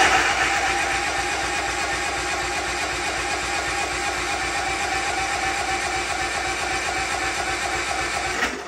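A replacement engine on a Toro zero-turn mower roars at wide open throttle, a loud, steady, buzzing drone holding evenly throughout without pause.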